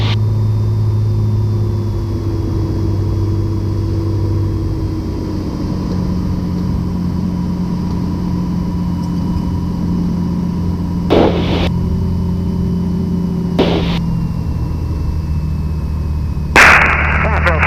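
Steady droning piston engine of a Piper Comanche 250 heard from inside the cockpit on final approach, a constant loud hum with a few brief bursts of noise layered on top.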